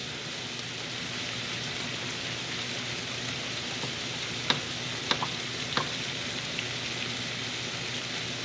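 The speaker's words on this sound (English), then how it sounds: "So you got your vegetables in your pan and they're nice and sauteed" Diced vegetables sautéing in a pan for a vegetarian stir fry give off a steady soft sizzle, with a few sharper clicks and taps as they are stirred.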